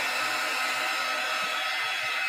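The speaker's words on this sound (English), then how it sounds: "Heat gun." A heat gun drying a watercolor painting gives a steady, close whoosh of blowing air with a faint motor whine, continuous and unchanging throughout.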